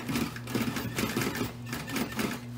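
A sewing machine stitching a patch onto a canvas wall tent, running with a steady motor hum and quick rhythmic needle clatter, close and continuous for a few seconds without speech.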